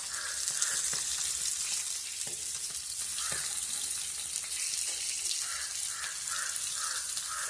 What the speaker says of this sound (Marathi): मीडियम गॅसवरती भाजायचं असं.